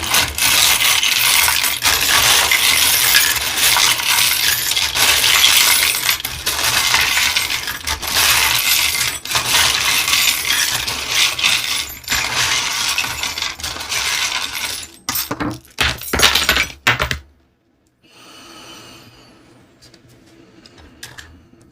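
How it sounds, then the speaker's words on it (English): Small metal charms tumbling and clinking together as they are shuffled by hand for a pick-a-card reading, a dense, continuous rattle for about fifteen seconds that breaks into a few scattered clatters before falling quiet. "we're going to shuffle up the charms and see what the message is for you"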